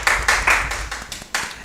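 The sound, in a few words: audience applause for a debate speaker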